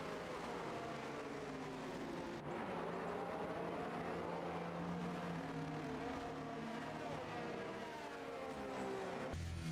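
Race cars in a racing video game circuit in Brazil cruise at moderate pace behind the safety car, a continuous engine drone with shifting pitch and steady loudness throughout.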